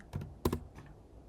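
A few sharp keystrokes on a computer keyboard, including the U key, tapped close by as short clicks, the middle press loudest, with no talking.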